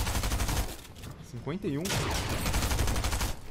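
Rapid automatic gunfire in the video game Fortnite, with a shooter firing from a distance. A fast, even rattle of shots runs almost throughout, and a voice speaks briefly over it midway.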